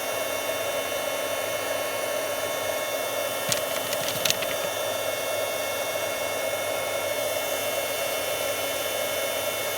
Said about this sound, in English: heat emboss with white embossing powder. Actually, I'll turn that on so it starts to heat.